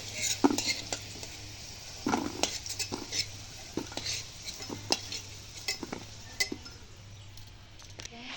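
Fried potatoes lifted out of hot oil with a metal utensil, with soft scraping and clinking of metal against the pan in irregular taps over a quiet background sizzle, close by.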